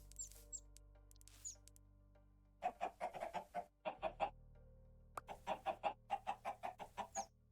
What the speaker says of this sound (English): Hello, every chicken.